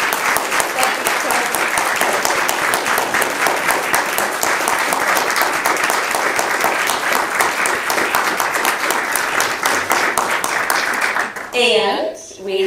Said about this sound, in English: Can we have a huge round of applause for Rothstein?